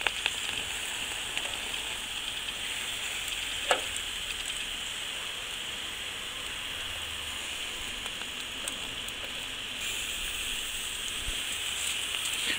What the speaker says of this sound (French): Au bout d'environ 5 minutes, tournez vos morceaux et faites cuire l'autre face.